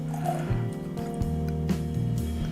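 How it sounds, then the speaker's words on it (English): Fighting Cock bourbon glugs and trickles as it is poured into a glass of Old Grand-Dad 114, a close, continuous pour with bubbling liquid tones. "you take some Old Grandad 114 and then you pour some fighting cock in it"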